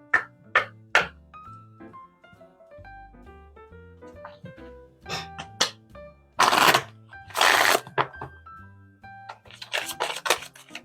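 A tarot deck is handled and shuffled close by, with scattered card flicks and taps, two longer riffling bursts in the middle and more quick clicks near the end.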